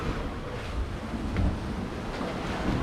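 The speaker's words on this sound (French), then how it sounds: "Donc 18 nœuds de vent, on surfe un peu sur les vagues" Sailboat surfing ocean waves in 18-knot wind on an open-sea crossing from the Bahamas to Bermuda, a steady loud rush of water and wind buffeting with no voices.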